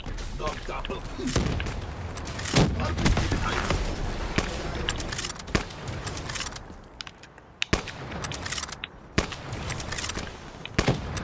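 Sniper rifles fire in Call of Duty Black Ops 3, the RSA Interdiction and Locus, in a hardpoint match: sharp cracks scattered through a busy game mix, with someone talking over them.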